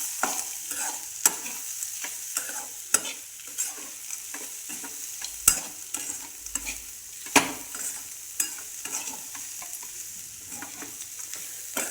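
Peanut chutney made with coarsely ground peanuts and salt is stir-fried in a little oil, a soft continuous sizzle punctuated by repeated sharp scrapes and taps of a spatula against the pan.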